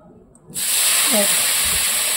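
Water poured into a hot pan of semolina sets off a sudden loud, sustained steam hiss that starts after a brief quieter moment and fills the rest of the clip.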